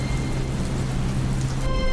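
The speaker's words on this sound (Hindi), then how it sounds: "तभी तेज बारिश का झोंका आता है" Heavy rain pours down in a loud, steady hiss as a sudden gust sweeps through, with a faint musical tone rising near the end and no voices.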